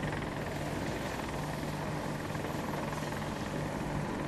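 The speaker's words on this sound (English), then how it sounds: "Oh, two helicopters." Steady, loud AH-64 Apache helicopter rotor drone in a video game, with a constant engine hum, unbroken throughout and without voices.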